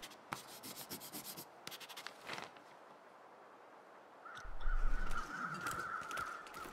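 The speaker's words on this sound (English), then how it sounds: "Crows." Crows caw in The Long Dark, a harsh call cutting through scratchy rubbing noises early on, then a steadier run of cawing over a louder rumble toward the end, with no talking.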